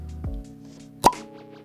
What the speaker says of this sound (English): Pause for cork pop.